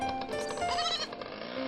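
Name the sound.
goat bleating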